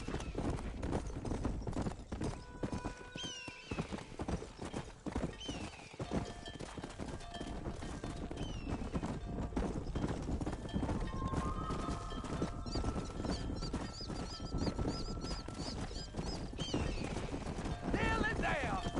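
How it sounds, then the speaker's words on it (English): Horse hooves clip-clop at a gallop in the Red Dead Redemption video game, a steady rapid rhythm running throughout alongside game music and ambient effects, with a brief whinny. "Keep going, Mr. Marston. Giddy up."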